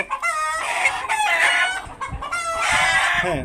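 Farm chickens clucking steadily while a rooster crows, loud and close, filling the whole short stretch with overlapping calls from birds kept in cages.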